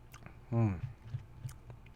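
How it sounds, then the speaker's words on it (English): Someone chews boba tea pearls, producing soft rhythmic wet clicks close to the microphone after a brief vocal sound. "Guys can hear me chew on stream."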